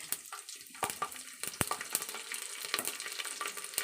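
Cumin, shahjeera and garlic fry in hot oil for a soy biryani, with crackling sizzle, spattering pops and stirring scrapes up close. The sound starts quiet and grows busier.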